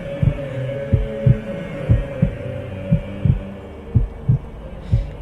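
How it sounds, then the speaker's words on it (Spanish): A powerful heartbeat thumps in a slow, regular lub-dub rhythm, each deep pulse close and heavy over a low background hum, with no voices. "el latido potente de un corazón, tan potente que parecía estar dentro de la tienda con él"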